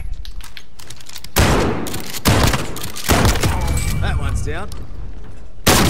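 Call of Duty Warzone gunfire: loud bursts of automatic weapon fire, several separate volleys with sharp impacts, under a player's voice calling out.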